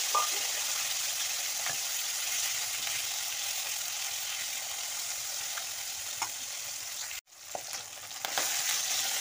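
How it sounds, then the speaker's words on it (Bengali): Singhi catfish frying in hot oil, a steady close, loud sizzle holding for most of the span with a brief dropout near the end before the hiss resumes. "শিঙি মাছগুলো ভেজে নেব।"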